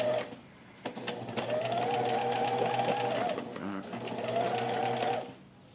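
A sewing machine runs steadily while edge stitching fabric close to the edge, in two sustained bursts with a short pause between, and a voice talks over it.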